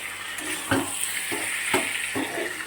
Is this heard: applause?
no